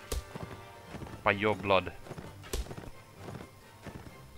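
Horse hooves clip-clopping in Mount and Blade: Warband, a steady close gait of hoofbeats with a short whinny-like cry and sharp impact hits, under a brief spoken line.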